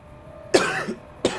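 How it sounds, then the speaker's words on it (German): Two separate coughs, each a sharp burst followed by a rougher tail, heard close and alone against a quiet background. "Wieso muss ich denn jetzt so oft husten?"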